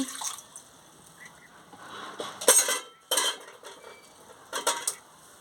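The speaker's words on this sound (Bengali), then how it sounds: "গাজর আর আলুগুলো সিদ্ধ করতে বসিয়ে দিচ্ছি" A pan of carrots and potatoes is set to boil on a stove, bringing close metallic clatter, scraping and clinks of cookware in several bursts, with a faint splash of water.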